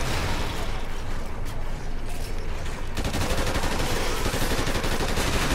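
Sustained automatic gunfire from the Call of Duty Ghosts Halloween special mode, loud rapid bursts continuing throughout, growing denser in the second half, with voices talking faintly underneath.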